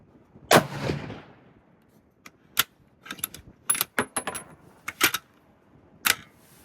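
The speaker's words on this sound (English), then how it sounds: "And this one we're only going to shoot a 3-round group." A Ruger American Predator rifle firing 123-grain hollow-point boat-tail rounds at a range: sharp, loud cracks spaced a second or more apart, separated by quieter metallic clicks and handling noises.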